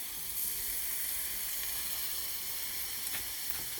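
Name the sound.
stock poured into hot skillet, sizzling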